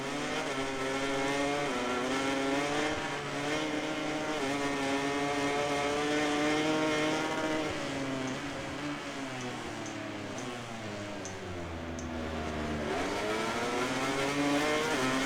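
Race cars lapping COTA in a racing video game, engines wailing with rising and falling pitch sweeps as gears shift, a sustained loud whine that dips and climbs again near the end.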